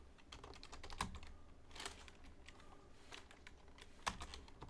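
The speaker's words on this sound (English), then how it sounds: "you have the loudest keyboard" Fast, steady typing on a loud mechanical keyboard, a dense patter of sharp clicks with a few heavier keystrokes, faint and close in a quiet room.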